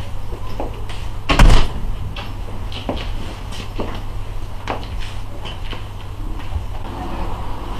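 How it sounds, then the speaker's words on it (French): A door shuts with one loud thud early on, followed by scattered footsteps and soft shuffling knocks around a room. "fermez la porte derrière vous,"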